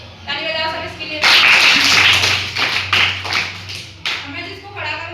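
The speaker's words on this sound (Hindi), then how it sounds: "बैठ जाओ, ताली बजाओ सब इसके लिए।" Schoolchildren in a classroom clap for a classmate, a loud burst of mixed hand claps lasting a few seconds, with a teacher's voice speaking before and after.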